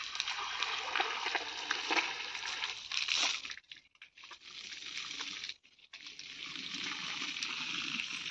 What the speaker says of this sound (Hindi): इसमें पानी डाल दे रहे ताकि थोड़ा सा दब जाए मिट्टी।